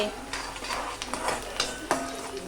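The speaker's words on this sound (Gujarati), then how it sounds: "કાંદાને તેલ લઈ અને કાંદા ફ્રાય કરવા મૂકી દીધા છે" Whole onions frying in oil in a pan make a light sizzle under repeated scraping and clinks of a spoon stirring against the metal, close and moderate in level.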